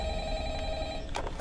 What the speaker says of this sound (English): Let's mute the call because you've already heard it.